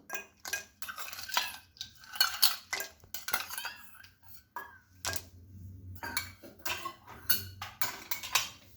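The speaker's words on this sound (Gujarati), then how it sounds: "થોડા આઈસના ક્યુબ નાખીશું" Ice cubes clink into a blender jar of paan sharbat with gulkand, a series of sharp, close clattering knocks and taps in uneven bursts, with a brief pause midway before more clinks.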